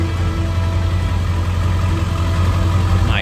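A Ford F350 with a 7.3 Powerstroke diesel engine idles steadily and loudly up close, a constant low rumble with mechanical clatter throughout, no voices.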